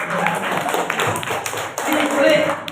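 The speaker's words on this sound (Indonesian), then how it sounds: "Tepuk tangan" Pupils in a classroom clap together for a correct answer, a brisk, fairly loud burst of many small hands with distinct taps, and a voice speaking over it.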